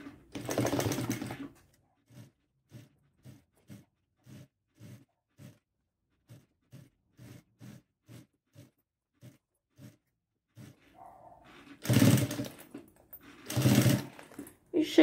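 Sewing machine stitching pink bias binding onto a small pink bag, a run of evenly spaced mechanical stitch clicks, quiet and close, bracketed by louder handling bursts at the start and end.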